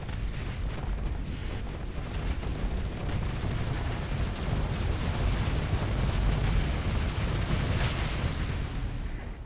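A dense missile barrage in the space combat game Starsector, with continuous rumbling explosions and crackling impacts layered into a loud, unbroken roar and no speech.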